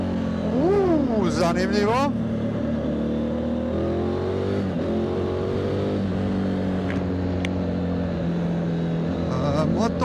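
A 2024 Triumph Tiger 900 GT Pro motorcycle engine runs steadily nearby, its pitch rising and falling with light revs, under someone talking.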